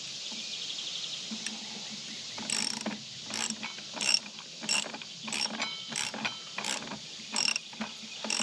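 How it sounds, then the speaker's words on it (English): A ratchet wrench loosens the head of a string trimmer being converted into a brush cutter, giving short, evenly spaced bursts of ratcheting clicks, close and fairly quiet over a faint background hum. "I have somewhere the right wrench, except we go counterclockwise for the dummy."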